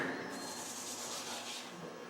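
A lathe gouge takes a roughly 3/8 cut on a spinning wooden bowl, giving a continuous close rasping, scraping whir that holds steady throughout.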